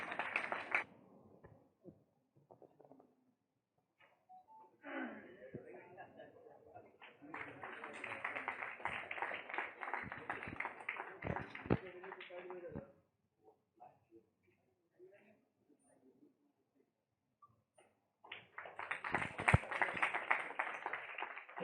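An audience at a two-day Maharashtra science fair academy training workshop claps in bursts, with sustained applause twice and quieter sparse claps and murmuring between.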